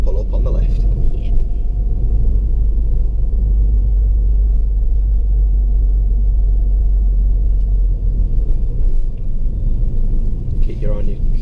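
A learner's car pulls away under clutch control during a driving lesson, a steady low engine rumble filling the cabin throughout, with people talking inside.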